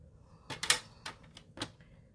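A paper trimmer slices cardstock down to 4.5 inches in a few short, sharp clicking and scraping strokes that are close and fairly faint, with quiet pauses between them.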